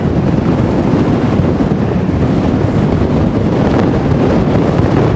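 Strong wind blowing across open ground where wind turbines stand, a loud, steady broadband roar buffeting the microphone without pause and no voices.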